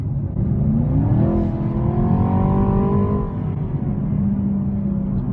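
A 2020 Chevrolet Camaro 2SS with the 6.2-litre LT1 V8 accelerates hard in sport mode, its engine note rising in pitch under load, heard loud and steady from inside the car.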